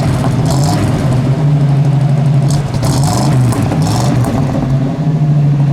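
Engine of a 1972 Chevrolet El Camino SS with dual exhaust exiting behind the rear wheels, idling close by with a deep, loud burble and a few throttle blips that briefly lift the note.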